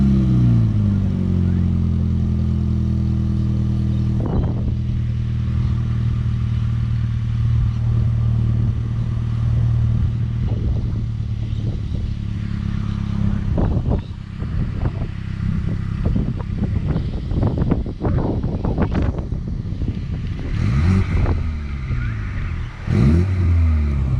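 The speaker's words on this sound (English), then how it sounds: "we will give you a sneak peek of how the exhaust sounds" A Mini Cooper S engine idles with a deep rumble from the exhaust, then is revved several times in sharp bursts, loud and close.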